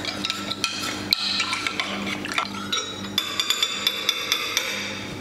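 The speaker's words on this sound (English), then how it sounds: "Mix this up." A utensil stirs a ginger marinade for meat in a bowl, producing close, regular clinking taps against the side and wet swishing, with rhythmic knocks through the second half.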